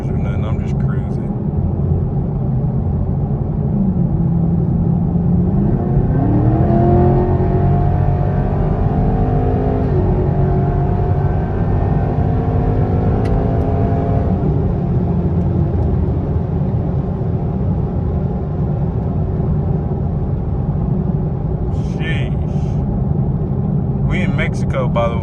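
Car with an engine cruising steadily, a constant low drone with a brief rising shift in pitch partway through; no one speaks over it.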